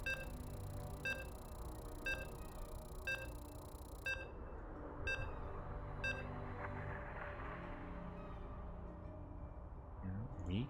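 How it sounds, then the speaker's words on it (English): Regular electronic beeps sound about once a second while a StarCraft 2 PvP tournament match loads into game 3, repeating several times over steady background noise as a caster talks over them. "As you can hear the beeps."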